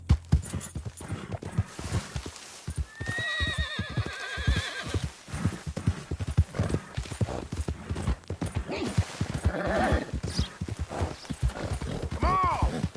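Horse in the Western game Red Dead Redemption 2 gallops with steady rhythmic clip-clop hoofbeats and a loud whinny partway through, a rider urging it on in short spoken calls over the hooves.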